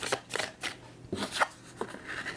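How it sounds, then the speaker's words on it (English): Tarot cards being shuffled by hand, several quick papery bursts of riffling and sliding in an uneven rhythm, close and fairly quiet. "One more shuffle, because that didn't go well."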